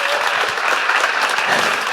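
A seated audience at a book publisher's launch presentation breaks into loud, sustained applause, dense clapping from many hands filling the room with no talk over it.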